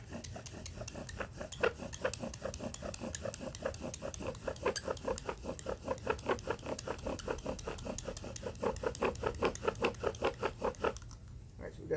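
A bow drill spindle turns in a wooden board to make fire, with fast, regular back-and-forth squeaking strokes that are close and steady throughout.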